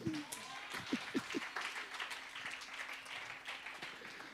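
A church audience at a teaching evening in Mannheim applauds, a short, fairly faint burst of mixed clapping with a few sharper claps near the start and scattered voices.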